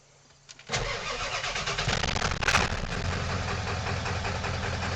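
A 7.3 diesel truck set up to run on used cooking oil cranks briefly and fires up, settling into a loud, close, clattering diesel idle with a steady knock.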